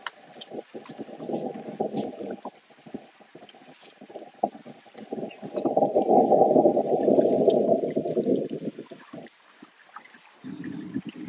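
Strong wind at the Aqaba seaside roars across the microphone in loud, surging gusts with a sea-like rush, peaking midway, then easing before a final buffet.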